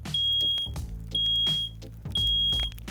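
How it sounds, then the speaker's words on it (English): A smoke alarm beeping during a smoke detection test, three loud, evenly spaced long high-pitched beeps close to the mic, with clunks and knocks between them. "The beeping was from the alarm on the left."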